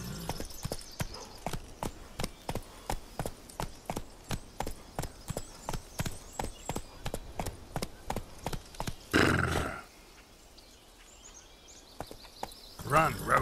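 A horse gallops in The Witcher 3: Wild Hunt, with rapid, evenly spaced hoofbeats drumming for about nine seconds, then a brief whooshing burst and a quieter stretch.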